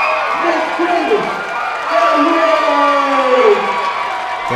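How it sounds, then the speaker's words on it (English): A boxing crowd in North Carolina cheers and whoops during a fighter's ring introduction, loud and continuous with shouts rising and falling, an announcer's voice mixed in. "Definitely a loud response here from the crowd"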